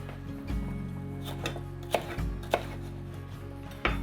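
Knife chopping vegetables such as peppers and tomato on a board for a salade niçoise, a few irregular sharp taps at close range over a low steady hum, with no talking.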